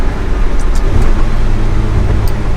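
A Ferrari 360 Challenge Stradale engine and exhaust drone loudly at close range, a steady low rumble with slight variations throughout.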